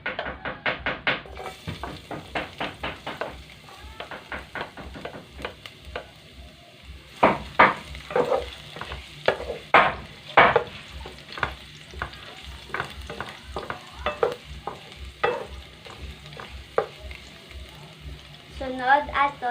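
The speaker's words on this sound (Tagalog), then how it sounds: "Una, gisaunta ang garlic." Garlic sautés in a pan for ginataang sitaw, with a soft steady sizzle beneath repeated sharp scraping and stirring strokes of a utensil against the pan.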